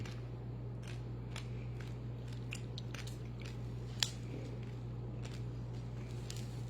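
Someone eating a crunchy snack, giving a string of short, close bites and crunches over a steady low hum, with no talk.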